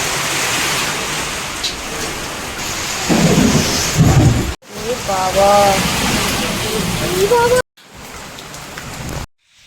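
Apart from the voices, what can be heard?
thunderstorm with heavy rain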